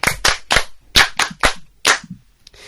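A few people clap in a classroom French lesson, giving sparse, separate sharp claps in an uneven rhythm that thin out toward the end, with no talking over them.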